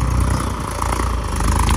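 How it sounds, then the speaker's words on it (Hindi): A Mahindra 275 DI XP Plus tractor engine labors under load while pulling a 7-tine cultivator, a loud, close, continuous low diesel drone with a rapid pulsing rumble and no talk. "ट्रैक्टर जो है बड़े ट्रैक्टरों का कल्टीवेटर खींच रहा है, बहुत बड़ी बात है, खींच रहा है और दब रहा है"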